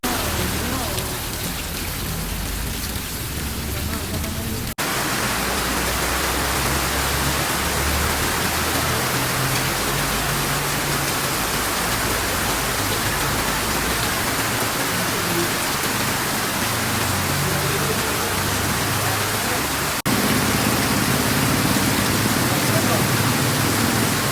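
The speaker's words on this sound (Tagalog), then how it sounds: "para marinig nyo po yung lakas po ng ulan kanina na bumuhos po sa amin sa Tanay" Heavy rain pouring down in Tanay, a dense, loud, continuous hiss of water drumming on surfaces that holds steady throughout and swells slightly toward the end.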